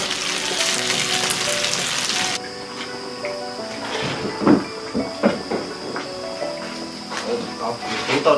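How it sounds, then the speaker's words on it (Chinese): Soaked tofu skin coated in beaten egg frying in a pan, with a loud close sizzle at first that settles into a quieter crackle broken by scraping and clatter from the spatula. "两边煎到它金黄"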